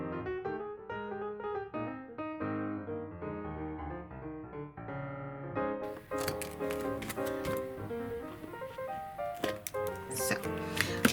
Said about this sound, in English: So all I do is just cut the sharp little squares off.